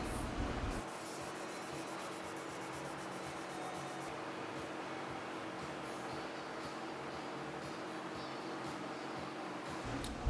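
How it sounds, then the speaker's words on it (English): Hand sanding a steel kitchen utility knife blade, a steady, close rasping rub of repeated strokes running continuously and evenly from start to finish. "So the next step was the hand sanding."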